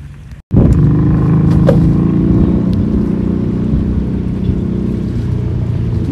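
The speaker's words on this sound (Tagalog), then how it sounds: "Dami kayang motor dito." A motorboat engine roars loudly and close by a beach, starting abruptly after a brief gap and holding a steady throbbing drone to the end.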